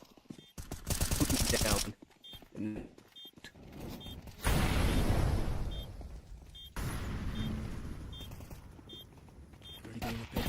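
Bursts of rapid automatic gunfire in Counter-Strike 2, coming in several loud spells broken by short gaps, mixed with mechanical clicks and game effects while a voice speaks over it.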